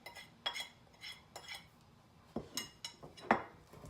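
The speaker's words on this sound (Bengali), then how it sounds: "এবার এটা আমি খুব ভালো করে মিশিয়ে নেব।" Ground spices and salt get mixed for egg pakora batter in a bowl, a run of light spoon clinks and scrapes in an irregular rhythm, close but quiet, with no talking.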